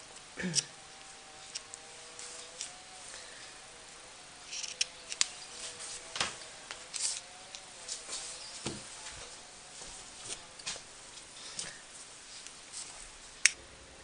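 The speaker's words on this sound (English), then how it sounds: "So I'll just take the scissors and clip that." Scissors make small, scattered snips while trimming the edges of old lace on a bear cover, quiet and close, with faint sounds of handling between cuts.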